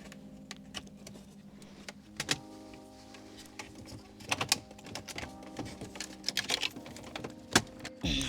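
Wiring connectors being unplugged behind the dashboard of a Range Rover Sport, heard as scattered plastic clicks, snaps and rattles at close range with uneven gaps between them, under a steady low background hum and with no talking.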